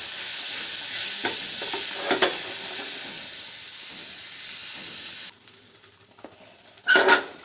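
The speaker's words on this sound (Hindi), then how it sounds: "अब इसमें डाल दूंगी प्याज और लहसुन बारीक चॉप कर रखे हैं वो और इसको ना गोल्डन ब्राउन होने तक अच्छे से पकाना है" Finely chopped onion and garlic frying in a pan for kadhi, a loud, steady sizzle with scraping stirs; the sizzle drops sharply in level partway through, then continues more quietly with a few stirring bursts.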